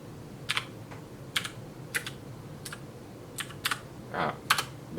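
Typing on a computer keyboard while entering a short program on a retro RC2014 computer setup, sharp clicking keystrokes in irregular clusters, close and clear with no talking.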